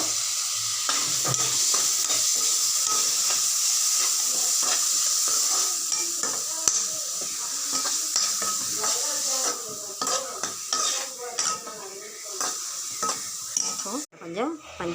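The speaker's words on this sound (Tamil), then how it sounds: "இதை நல்லா வதக்கி விட்டுக்கலாம்." Onion, tomato, green chili and curry leaves sauté in a pan with a steady bright sizzle, while a utensil stirs and scrapes against the metal in repeated close clinks.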